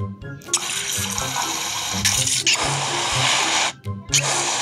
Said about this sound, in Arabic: مي من الحنفية بس ميرسي